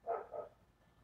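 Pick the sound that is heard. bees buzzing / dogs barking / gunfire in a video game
dogs barking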